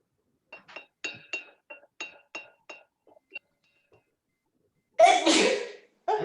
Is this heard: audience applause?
no